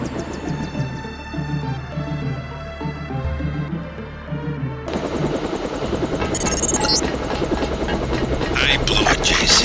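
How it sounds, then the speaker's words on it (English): Stealth helicopter in the video game Deus Ex, a steady whirring rotor drone under game music at first, then a louder, rougher engine roar as the craft takes over, with voices talking over it. "Time to see if this stealth copter is worth all the fuss."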